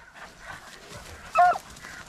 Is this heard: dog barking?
yes